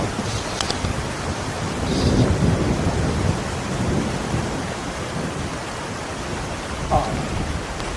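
Heavy rain hisses steadily as thunder rolls and rumbles low, peaking around the second and third seconds, with a faint voice near the end.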